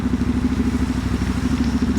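Motorcycle lane splitting through rainy Friday traffic from Brooklyn to the Bronx, its engine holding a steady mid-pitched drone with faint clatter, close and continuous for two seconds.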